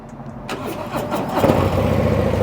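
A 2024 Harley-Davidson Road Glide motorcycle engine cranks over and catches, settling into a loud, rumbling idle after a quiet moment.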